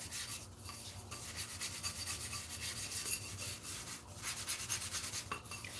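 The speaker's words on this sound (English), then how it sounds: "with all the scrubbing, I don't scrub very hard" A ceramic bowl about 25 years old is scrubbed to remove gray silver scratch marks, giving a steady, close rasping rub that repeats in quick back-and-forth strokes with brief pauses and no talk.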